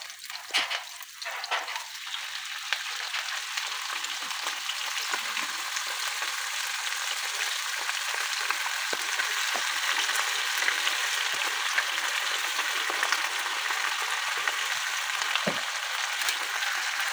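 Chicken pieces frying in a hot pan for a Filipino chicken caldereta stew, a steady, loud crackling sizzle that runs unbroken throughout, close to the pan, with no talking.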